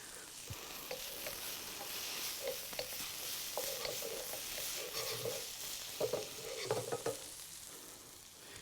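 Broccoli sizzles in a pan with a little water or veggie stock, a steady close crackling hiss broken by occasional stirring scrapes and soft clinks.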